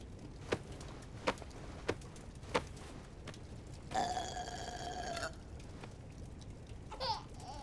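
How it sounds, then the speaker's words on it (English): A baby burps in the King's Quest video game, heard as a short tonal burp of about a second in the middle, with brief sharp taps before it and a smaller gurgle near the end. "All right, time for a burping."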